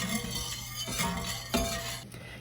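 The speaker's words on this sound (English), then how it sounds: "we're just going to stir it, and we're going to stir it until the sugar evaporates" A spoon stirs sugar into tea in a pot on the stove, a few soft scraping and clinking strokes against the metal, close and unaccompanied.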